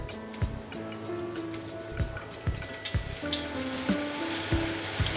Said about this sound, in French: Je fais monter l'huile sur les pakoras pour les faire cuire avant de les retourner